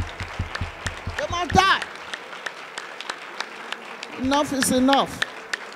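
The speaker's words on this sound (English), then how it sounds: "Clap your hands and pray in tongues." Congregation at a church prayer service clapping hands in a steady rhythmic beat, the claps continuing under a loud preacher's shouted speech.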